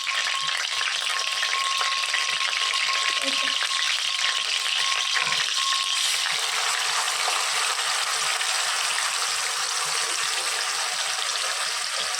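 Onion, tomato and coriander paste fries in oil for a fish curry, giving a loud, continuous, even sizzle that stays unchanged throughout.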